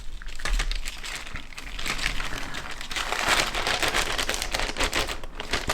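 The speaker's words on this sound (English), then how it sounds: "I'm going to put those straight back in the plastic bag." Plastic model kit sprues for a 1/48 scale Airfix Avro Anson being slipped into a plastic bag give a continuous, close, soft crinkling and rustling that lasts throughout, with no voices.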